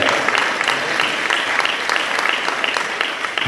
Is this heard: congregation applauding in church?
yes